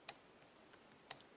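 Typing on a computer keyboard: a handful of soft, quiet key clicks at uneven intervals, with one sharper tap near the start and another near the end.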